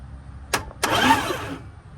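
Starter cranking on a 1970 Dodge D100 pickup with a 383 big block engine: two short bursts, the second running longer with a rough, noisy churn for about a second before fading.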